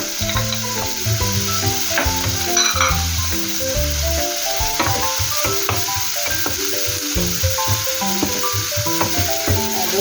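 Garlic sautéing in a pan for Filipino ginisang sotanghon, a loud continuous sizzle and hiss with the occasional scrape of stirring, steady for the whole stretch over a faint background tone.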